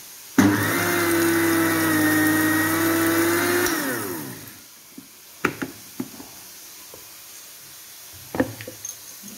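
A mixer grinder whirring loudly as it blends dried and green chillies into a chutney paste, a steady high motor whine that winds down after about four seconds, followed by a few sharp clicks and knocks.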